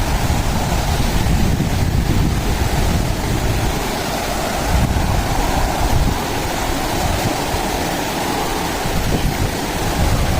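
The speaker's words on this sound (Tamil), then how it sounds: "இங்கே நல்லா ஃபோர்ஸாக இருக்குங்க தண்ணி. மேலேருந்து கீழே இறங்கி வரும் தண்ணி." Water rushing forcefully down over rocks along a stream in the Kolli Hills, a loud, continuous roaring rush heard up close without any pause.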